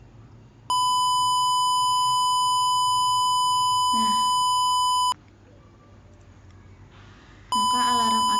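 Simulated morning alarm from a simple light-sensor (LDR) project, sounding as a loud steady electronic beep tone that runs for several seconds, stops, then starts again, with brief talk in between.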